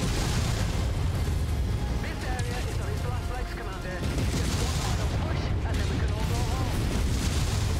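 Mech weapon fire and explosions in Mechwarrior 5 Mercenaries, a dense, continuous barrage of booms and gunfire with a player's voice talking over the battle.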